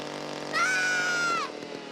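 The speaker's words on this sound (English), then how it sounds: "Do you want to see my new chainsaw and hockey mask?" A chainsaw revs with a steady high whining drone for about a second, fairly loud and close, rising sharply and then cutting off.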